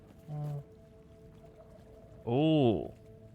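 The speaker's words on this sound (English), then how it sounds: "That's a sound of a unique dropping." Unique item drop chime in the video game Last Epoch: a short tone, then a louder, swelling pitch-bending chime lasting about half a second, heard in-game without talk.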